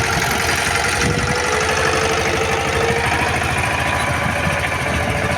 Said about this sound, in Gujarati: આ ટ્રેક્ટર મારે અગિયાર વર્ષ ચાલે છે